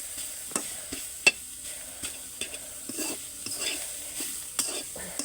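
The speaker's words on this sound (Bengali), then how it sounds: "এই যে আমরা এখন শাকটাকে ভাজছি।" Grass pea greens (khesari shak) with stalks fry quietly in a pan, sizzling softly under repeated sharp scrapes and clinks of a spoon stirring against the metal.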